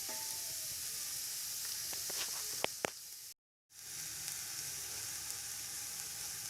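Capsicum, cabbage and carrot sautéing in a pan for egg fried rice, a steady close sizzle with a few sharp clicks, a brief dropout, then sizzling resumes, no talk.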